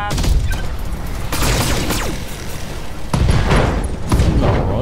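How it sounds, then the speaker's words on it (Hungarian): Mech parts blow apart in the video game BattleTech, a dense, loud barrage of booms and crackling blasts rolling continuously with several heavier impacts. "a darabok robbannak le róla."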